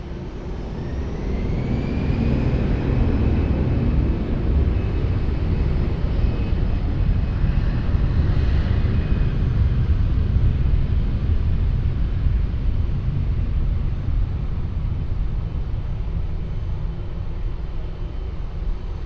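A fixed-wing airliner taking off from runway 20 at Lisbon Airport, a loud steady jet engine roar filling the whole stretch with a faint rising whine early on, heard from a distance with no talk.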